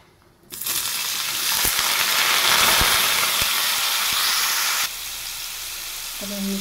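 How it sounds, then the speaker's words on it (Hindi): Boiled jackfruit pieces drop into hot mustard oil in a kadhai and fry with a loud, steady broadband sizzle that starts abruptly, holds, then eases slightly, with a few faint clinks of the spoon. "तेल में फ्राई कर लेंगे।"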